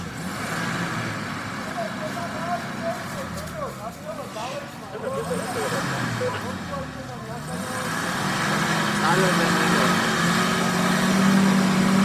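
A car engine labours and revs unevenly while people talk over it, the strained drone rising and falling and growing louder and steadier toward the end.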